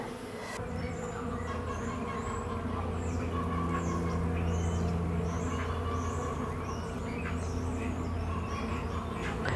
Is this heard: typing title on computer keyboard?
no